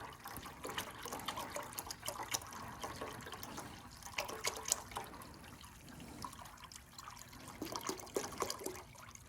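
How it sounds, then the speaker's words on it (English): Rust remover liquid splashes and trickles as metal parts are submerged in a container holding about two gallons of it, with irregular sloshing and dripping close by, steady throughout. "It's splashing everywhere."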